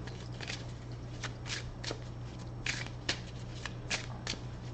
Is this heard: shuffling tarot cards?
yes